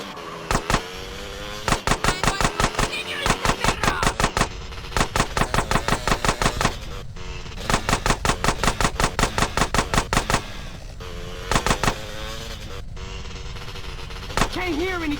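Rapid bursts of automatic gunfire from a Grand Theft Auto: San Andreas Definitive Edition drive-by chase, loud and close, firing in repeated volleys with brief pauses, with voices talking in between.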